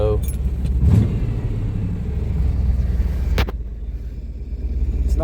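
A Chevrolet K10 truck engine runs steadily with a constant low rumble, close by, joined by a short jangle of keys and a couple of brief knocks partway through.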